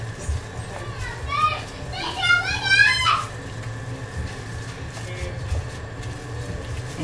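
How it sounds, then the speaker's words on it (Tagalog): A baby squealing and babbling noisily while playing with a playmate, a burst of high excited cries over a steady low background hum, with quieter stretches after. "Ang ingay ni baby. Tuwang-tuwa siya kasi ngayon lang siya may kalaro."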